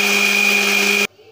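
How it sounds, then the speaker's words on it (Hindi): A kitchen mixer grinder whirs loudly and steadily as it blends chopped onion into a paste, then cuts off abruptly near the end, leaving quiet. "इसको काट के मैं मिक्सी में इसका पेस्ट बना लेंगी"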